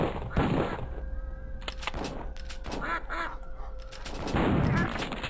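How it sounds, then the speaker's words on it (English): Ducks in a video game let out several short, clipped quacks as they are stepped on, mixed with thuds and game noise while a person talks throughout. "The stepping on ducks thing just seems like really weird."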